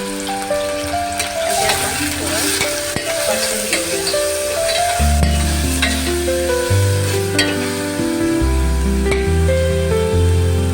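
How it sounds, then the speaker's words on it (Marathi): Grated bottle gourd stirred and frying in hot ghee for a sweet halwa, a loud, close crackling sizzle with scraping stirs throughout, accompanied by background music. "घी गरम झाल्यावरती त्याच्यामध्ये आपण किसलेला दुधी टाकूया."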